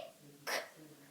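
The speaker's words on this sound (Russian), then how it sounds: "а ты при этом икаешь" A single short hiccup-like burst, sharp and breathy, sounding once near the middle of a quiet stretch.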